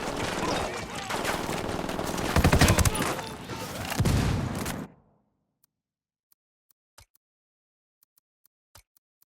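Dense gunfire and explosive bursts in the tactical shooter Ghost Recon Wildlands, a loud sustained barrage for about five seconds, mixed with voices, then cutting to near silence broken by a few faint isolated clicks.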